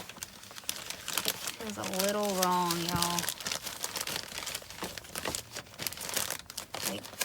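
A baby's dress is packed into a plastic bag for shipping, with repeated close crinkling and rustling of plastic while someone talks over the noise.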